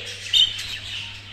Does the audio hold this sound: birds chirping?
yes